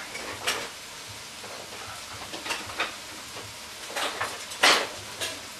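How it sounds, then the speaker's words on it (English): A whisk stirs sauce in a pot for chicken à la king, with soft scraping strokes and several sharper clinks of metal against the pot at irregular intervals, heard alone and close by. "Whisk. Wonderful tool."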